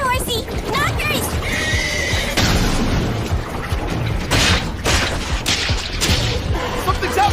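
Horse whinnies ring out in an anime fantasy battle scene, loud and close amid clattering hooves, booms and crashing impacts, with people shouting over the din.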